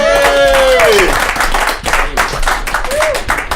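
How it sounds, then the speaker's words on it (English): A comedy club audience bursts into loud applause and cheering for a comedian, dense clapping that keeps going throughout, with a voice briefly rising over it at the start. "Give her a round of applause."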